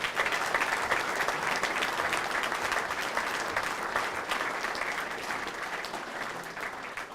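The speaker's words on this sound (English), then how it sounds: "Another round of applause." Audience at a senior prizegiving at Napier Boys High School applauding the school band, a sustained, even wash of many hands clapping that carries on steadily and tapers only slightly, with no talking over it.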